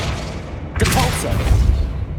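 Depulso spell cast in the Hogwarts Legacy video game: a sudden loud booming burst that hits sharply and then rolls on as a sustained rumbling blast.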